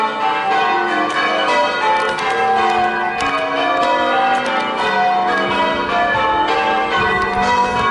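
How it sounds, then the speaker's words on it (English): Church bells ring continuously in a town centre near a railway bridge, loud and close, with overlapping peals sounding without pause. "Sound of bells, church bells."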